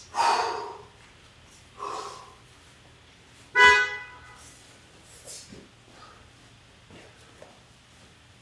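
A car horn honks once, short and fairly loud, amid quieter scattered breaths and small bumps inside a home weightlifting space, with brief sniff-like sounds before and after it.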